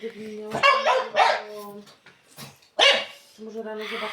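A dog barks several times indoors in short sharp bursts, mixed in with people talking close by.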